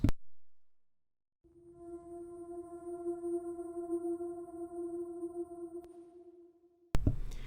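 A synthesized noise layer for a metal mix sustains as a steady tonal drone with a hissy wash beneath, fading in after a brief gap and cutting off before a louder burst at the end.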